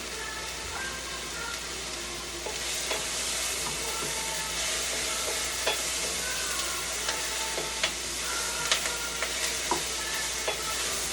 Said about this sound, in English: we make sure that we stir our vegetables